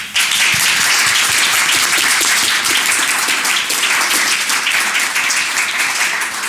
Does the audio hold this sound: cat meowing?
no